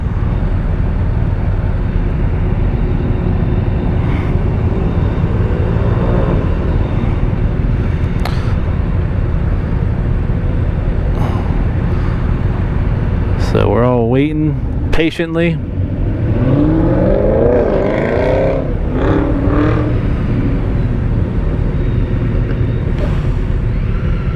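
Road traffic heard from a 2024 BMW K1600B motorcycle on a demo ride, a constant loud rumble with heavy wind buffeting and passing vehicles sweeping by midway, while a rider talks briefly over it.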